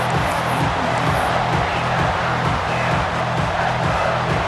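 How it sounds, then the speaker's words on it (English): Stadium crowd in the EA Sports College Football 26 video game, a steady roaring wash of cheering and noise that holds at an even, loud level throughout with no distinct voices standing out. "And the crowd coming to life here, trying to help this defense down in the red zone."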